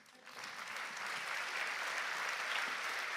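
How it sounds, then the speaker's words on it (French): Audience applause at a municipal New Year's wishes ceremony in 2025 rises quickly from near silence into a steady, even patter of many hands, fairly soft and distant throughout. "sous vos applaudissements"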